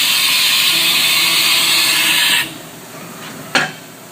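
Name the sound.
Haas VF0 CNC machining center doing a tool change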